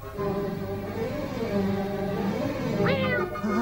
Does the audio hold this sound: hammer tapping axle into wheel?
no